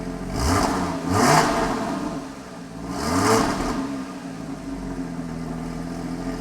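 Porsche Boxster with the 2.7 engine and standard exhaust revving in short bursts, two rising-and-falling blips then a longer pull before settling to a steady hum, close and clear with no speech.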